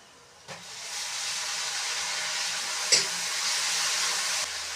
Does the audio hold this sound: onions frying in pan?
yes